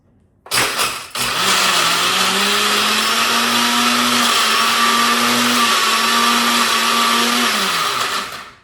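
Tribest glass blender running at full blast, a loud, steady whirring roar that kicks in after a brief start, holds for about seven seconds, then winds down at the end.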